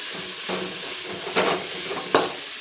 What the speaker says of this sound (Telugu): మనం ఇట్లా వేయించుకోవాలండి ఇవి